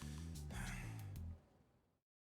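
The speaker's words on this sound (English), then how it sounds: "Just hearing men groaning and panting." Men groan and pant in the video game Lost Judgment, with short gasping breaths and strained vocal sounds over low musical tones, close and moderately loud, then fading out.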